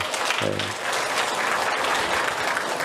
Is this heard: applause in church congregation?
yes